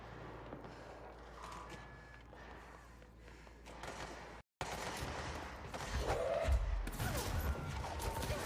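Scattered bursts of gunfire in the video game Control crackle and pop amid a busy, noisy mix, briefly cutting out before resuming louder.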